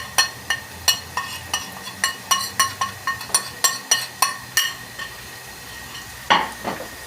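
Spices stirred into frying bhindi (okra) in a pan: a steady series of sharp metallic taps and scrapes from a spoon against the pan, one or two per half second, over a faint sizzle, then a louder clank near the end.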